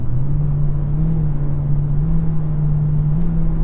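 A 2021 Hyundai Elantra with a chain-type IVT accelerating through simulated shifts, a loud, steady in-cabin engine drone with a rising tone that dips slightly at each step, over a constant road rumble.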